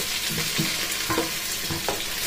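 Garlic sautés in a pan with a steady close sizzle, and spoon or spatula stirs scrape and knock against the pan several times over the frying.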